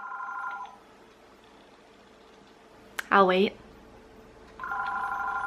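A home telephone bell rings in short bursts at the start and again at the end, with a brief voice speaking in the quiet gap between them.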